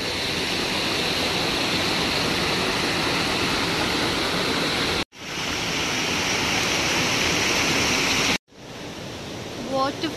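A waterfall stream at Orappan Kettu in Thrissur rushes loudly and steadily, a dense close roar of flowing water broken by two brief cuts.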